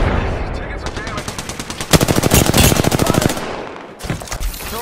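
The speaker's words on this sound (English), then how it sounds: "They're shooting at me?" Automatic gunfire rattles in a fast, loud burst during an Apex Legends firefight. It is set among other near and distant shots and game noise, with a brief lull near the end.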